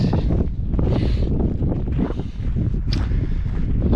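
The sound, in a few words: strong wind blowing on the trail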